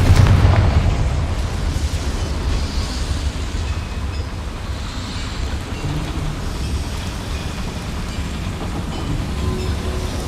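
A Confringo blasting spell explodes in Hogwarts Legacy, with a loud opening burst that settles into a long rumbling roar and crackling debris lasting around ten seconds, with no voices.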